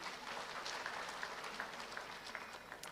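An audience at an HIV management gathering applauds steadily for the Americans, a faint, even patter of clapping hands with no voices.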